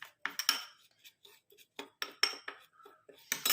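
A spoon clinks and scrapes against a bowl while stirring a lemon juice mixture, giving irregular, close-up taps and short scrapes with quiet gaps between them.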